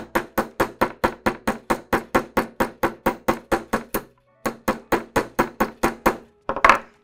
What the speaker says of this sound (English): set your piece here, the tail out, and just start hammering